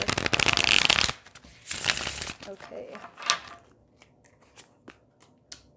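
Tarot cards are riffled and shuffled close up in several quick bursts, followed by softer snaps and taps, and a voice speaks briefly.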